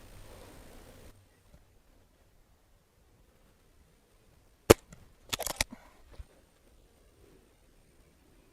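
A Gamo Swarm Bone Collector Gen3i air rifle fires outdoors at 45 yards, one sharp crack followed by a short clatter of rustling and handling noise in otherwise quiet surroundings.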